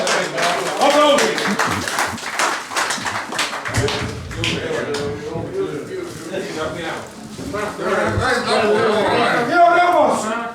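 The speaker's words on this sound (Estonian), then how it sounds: "Aplaus Ragnarile" A party crowd applauds a contestant at a 50th birthday celebration, with scattered clapping running under loud talk and chatter throughout, swelling again toward the end.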